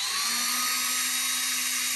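A power drill whines steadily and close up as it drives screws into the wooden back panel of a DIY wooden bat rack, one continuous high-pitched run with no talking.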